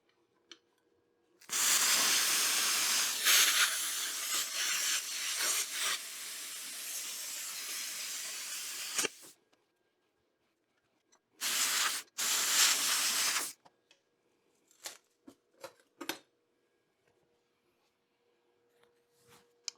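A SunGoldPower 50 amp plasma cutter slicing through metal gives a loud, steady roaring hiss for about seven seconds. Two shorter bursts follow after a pause, then scattered faint clicks and scrapes.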